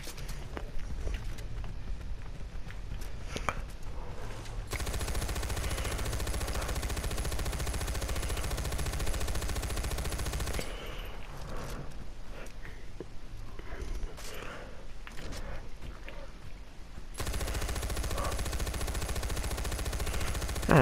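Rapid gunfire bursts crackle through a Far Cry 4 firefight, dense sustained shooting alternating with quieter stretches of footsteps and movement, fairly muffled throughout.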